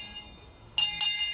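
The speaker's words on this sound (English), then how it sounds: "we ring a bell for every year since the birth of Christ" A bell rung by Father Christmas at Epcot's Festival of the Holidays, two bright, close metallic strikes following a quiet lead-in.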